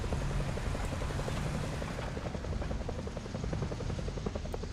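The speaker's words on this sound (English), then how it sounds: "Look at how many helicopters there are." Steady, loud rotor thumping of many helicopters in a video game fills the scene, a continuous chopping drone with no pauses.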